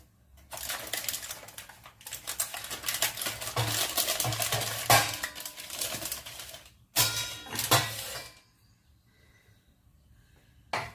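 Mawa gujiya frying in hot ghee makes a steady, close crackling sizzle that runs for several seconds. It breaks off briefly, returns in a short burst, then fades to near quiet, with no talking.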